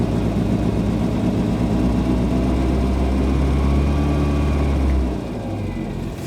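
Triumph Spitfire engine running steadily after a spell in storage, a loud, constant low rumble that holds for about five seconds, then eases slightly lower toward the end.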